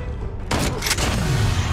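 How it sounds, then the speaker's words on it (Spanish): Shotgun blasts ring out in Call of Duty, two sharp bursts in quick succession about halfway through, followed by a rumbling, booming tail over steady game background noise. "Seguramente escuchó el sonido de los disparos de mi escopeta."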